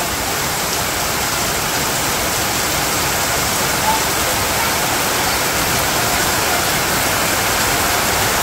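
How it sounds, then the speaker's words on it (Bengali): Heavy rain pours down outdoors on a rainy day in Bangladesh, a steady, dense, even roar of falling water that fills the whole span with no voices. "কত সুন্দর বৃষ্টি হইতেছে"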